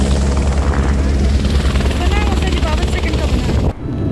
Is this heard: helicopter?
yes